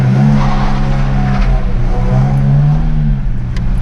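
A drift car with a welded differential spins its inner wheel on dry ground, its loud engine droning steadily close by under a continuous tire squeal.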